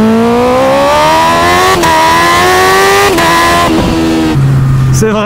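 A Yamaha MT-09 motorcycle fitted with a modified, switchable engine sound revs loudly and close up. The pitch climbs in several sweeping rises, cut by brief breaks between them, and a lower idle note follows at the end.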